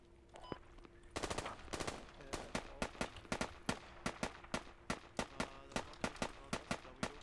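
Enemy gunfire in the military shooter Squad rings out as a long series of sharp, fairly close shots, first a quick burst, then evenly paced single cracks with short bursts mixed in, and no voices over it.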